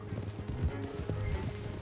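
Horse hooves clatter over rocky ground in the Red Dead Redemption 2 video game, a few uneven thuds and knocks beneath a constant low background of game ambience.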